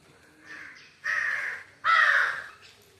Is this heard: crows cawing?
yes